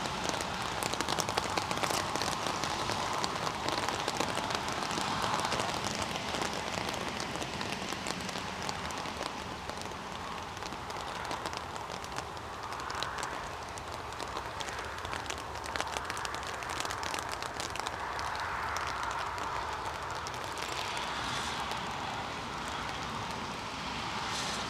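Rain patters steadily on an umbrella outdoors near an airport runway, a dense, even hiss of drops continuing without break and with no talking.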